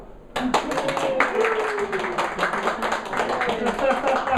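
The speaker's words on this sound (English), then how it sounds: "Please, everybody clap." Audience at a talk on compassion at a healing sanctuary claps together after a quiet start, producing a dense, fairly close run of clapping with voices mixed in.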